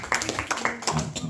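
Scattered hand claps ring out briefly, a short patchy burst of applause from a small group rather than a full crowd.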